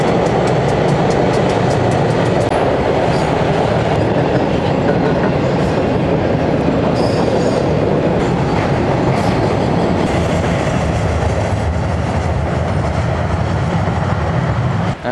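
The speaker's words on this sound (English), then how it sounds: "Oh, yeah, it is a train." A train passes close by with a continuous heavy rumble and rhythmic clickety-clack of wheels on rails, loud and sustained throughout, with a few brief higher squeals and no talking.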